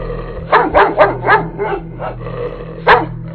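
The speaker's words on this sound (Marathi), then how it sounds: "तसा मोत्याने एक हिसका दिला आणि आत पाहत जोर जोरात भुंकू लागला." A dog barks loudly and nearby, a rapid burst of five or six barks, then a short pause before one more sharp bark.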